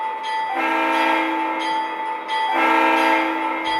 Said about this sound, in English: Flip those switches, start to ring the bell.